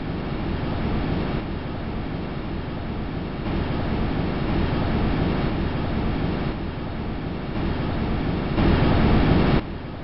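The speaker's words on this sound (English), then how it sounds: "actual audio taken by a microphone on the Huygens probe as it descended through Titan's atmosphere" Steady low rumbling roar of wind buffeting the Huygens probe descending through Titan's atmosphere, recorded by its microphone, with broad noisy texture that shifts in intensity in blocks and swells near the end.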